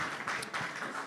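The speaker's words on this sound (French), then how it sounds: "Merci beaucoup à l'équipe de louange que nous applaudissons" Applause for a church worship team at a Sunday service, a dense continuous patter of many hands clapping at moderate level throughout, with no voices standing out.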